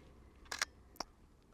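A handheld single-lens reflex camera, set to 1/160 s at f9, gives a quick double click of the shutter followed by a single faint click, close and quiet in a calm outdoor setting.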